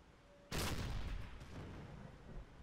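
A sharp, loud blast bursts in suddenly, followed by a sustained roaring rumble with crackling bursts that slowly settles, like secondary explosions aboard a burning ship in a submarine video game.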